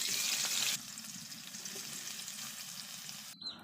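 Onions frying in a wok over a village stove, a steady close hiss and crackle that starts louder and then settles to a lower, even sizzle, with a brief clatter near the end.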